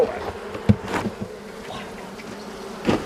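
A dense, steady buzz of many Caucasian honeybees on a hive comb fills the air, close by, with a few soft knocks and bumps.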